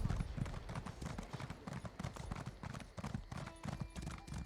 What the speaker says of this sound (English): Just a random horse out here?